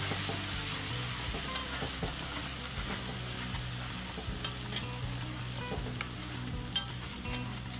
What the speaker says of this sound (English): we're going to go ahead and just deglaze the pan with just a little bit of, we're using whole milk